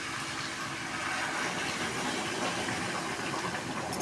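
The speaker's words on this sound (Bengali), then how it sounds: "এবার দেখো আমি গরম জল দিয়ে দেবো" Hot water pours steadily into a pan of spiced curry, a continuous soft gushing and sizzling wash that stays quiet and even throughout.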